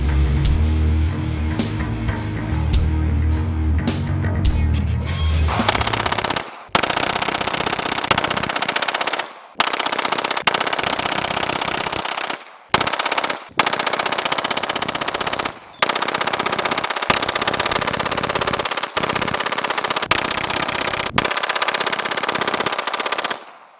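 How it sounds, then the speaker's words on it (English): Sustained full-auto fire from a Gen 5 Glock MOS pistol with an auto sear, a loud, dense string of rapid shots broken into long bursts by brief pauses during magazine changes, with no talking. "500 rounds, a lot of full automatic fire in there"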